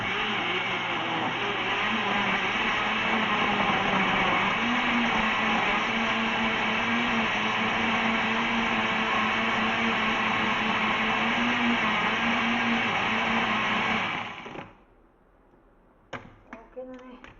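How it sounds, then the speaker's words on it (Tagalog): A blender making a fruit shake whirs loudly and steadily for about fourteen seconds, then cuts off, leaving a few small clinks and handling sounds. "Paandarin lang natin yung blender."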